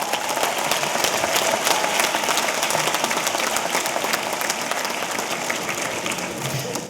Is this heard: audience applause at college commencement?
yes